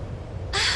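A bird caws once in the video game Odin Sphere Leifthrasir, a short, harsh, bright call that bursts in near the end over a low background hum.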